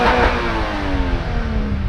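A 2022 Toyota GR86 revving, heard from outside, its exhaust a loud, close engine note sweeping through the rev range in a steady rising and falling drone, with no voices.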